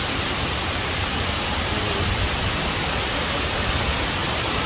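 Kuang Si waterfall near Luang Prabang, Laos, roars as a steady, dense broadband rush of falling water, loud and continuous with no voices over it.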